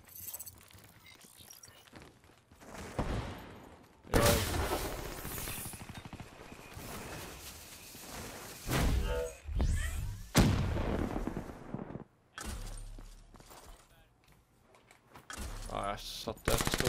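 Gunfire in the first-person shooter Black Ops 3 during an online arena match. Repeated bursts of loud shots and mechanical weapon clatter come in clusters across the whole stretch, mixed with players talking.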